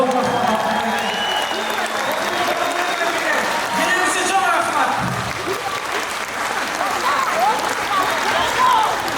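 Sustained audience applause at a concert, a loud, steady wash of clapping with crowd noise and some voices mixed in.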